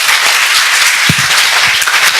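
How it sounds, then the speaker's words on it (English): An audience at an English speaking contest in Cambodia claps in a short, dense burst of applause, loud and close, with a few stray low thuds. "please give a round of applause"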